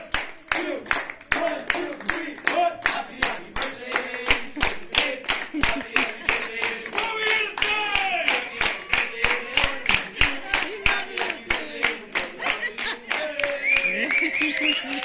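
A group at a birthday celebration in a Golden Corral restaurant claps hands in a steady rhythmic beat, close and loud, while voices sing and talk over the clapping.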